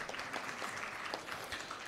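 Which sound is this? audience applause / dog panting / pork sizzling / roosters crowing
audience applause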